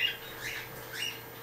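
A pet bird chirps indoors, giving two short, bright calls about a second apart over a low, steady room hum.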